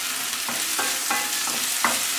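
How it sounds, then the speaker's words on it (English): Tomato masala sautés in oil over a slow flame, a steady soft sizzle with a spoon stirring and scraping through it in light, irregular strokes, close and uninterrupted by talk. "And cook it in a slow flame for about 4 minutes. Keep sauteing it."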